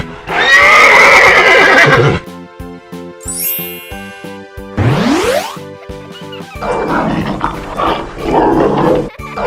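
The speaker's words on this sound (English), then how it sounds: "It's a horse." A horse whinnies loudly and close, a bright shaky neigh over the first two seconds, set within a playful musical backdrop with chimes, a rising sweep and rhythmic plucked notes.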